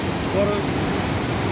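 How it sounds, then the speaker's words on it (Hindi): A rain-fed monsoon waterfall plunging from high above on a mountain trek between Gangotri and Kedarnath gives a dense, steady rushing roar, with a brief word spoken over it. "झरना जो कि बरसाती झरना है, उसकी आवाज़ आप बेहतर सुन सकते हैं"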